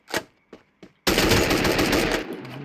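Automatic gunfire at a shooting range in Free Fire, a few short separate shots followed by a loud, sustained rapid burst lasting over a second, close and alone.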